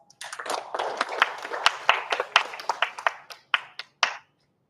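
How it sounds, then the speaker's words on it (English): An audience at a science event claps in welcome, a burst of applause that thins into scattered, separate claps and fades out after a few seconds. "let us welcome these celebrities with a round of applause."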